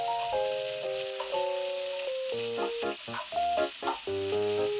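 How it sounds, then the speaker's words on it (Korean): Bean sprouts, onion and the lower parts of chives stir-fried in a pan over high heat with butter and minced garlic make a steady, loud, continuous sizzle with background music over it. "숙주, 양파, 부추의 아랫부분을 넣고 볶아주세요."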